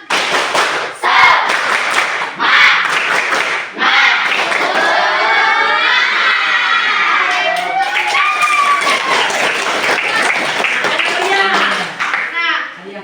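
A classroom of students performs a rhythmic spirit clap, with bursts of clapping and loud group chanting and shouting filling the room almost without pause.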